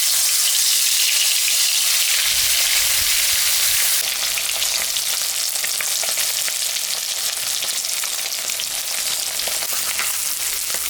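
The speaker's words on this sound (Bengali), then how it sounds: "এখন আমি মাছটা ভাজে নিই।" Pieces of rohu fish seasoned with salt and turmeric fry in hot mustard oil, a close, loud, steady sizzle that brightens and intensifies partway through.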